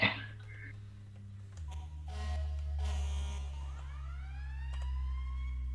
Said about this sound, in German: auf Z ist auch noch eine Sirene.